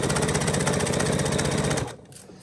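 A sewing machine runs steadily while stitching a quilted witch's hat, a loud, fast, even mechanical whir that stops abruptly near the end and leaves a brief quiet tail.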